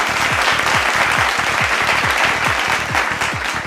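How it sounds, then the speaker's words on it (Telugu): A crowd claps loudly and steadily at an audio launch event as the music composer is welcomed onto the stage, the dense applause filling the clip without a break. "గట్టిగా చప్పట్లతో."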